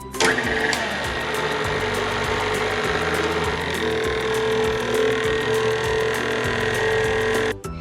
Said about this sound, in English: Then we lower down the whisk and lock it. Then we need to put it on a low speed for only a few seconds.